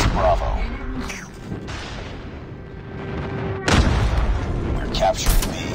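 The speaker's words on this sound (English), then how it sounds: "Friendly airstrike incoming." Friendly airstrike explosions in Call of Duty Mobile ranked Domination, heard as heavy booming blasts with low rumble, a sharp loud burst near the middle and another near the end, over a continuous din of battle.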